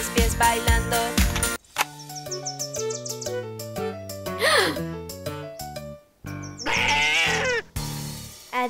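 In a Spanish-language children's freeze-dance song, a goat bleats as a sound effect, wavering cries over bouncy music with sung vocals, dropping out briefly before the tune resumes.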